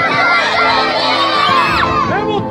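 A crowd of primary schoolchildren at Kocatepe in Afyon shouts together in loud, sustained unison, a dense chorus of high voices filling the whole stretch.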